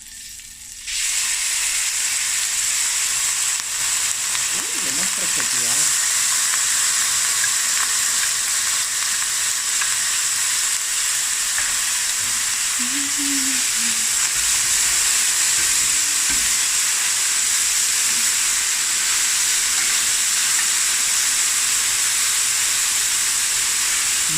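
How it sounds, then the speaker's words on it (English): Chopped large onion sizzles in hot oil in a pan, a loud, steady frying hiss that starts abruptly and holds unbroken, close up. "I've got some oil in my pan. Nice and hot. I'm gonna add one large onion, chopped up."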